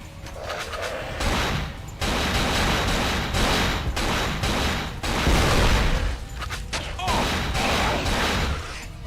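Gunfire from the survival-horror video game Cold Fear rings out as repeated loud bursts and crashing impacts, broken by short pauses, with game ambience between them.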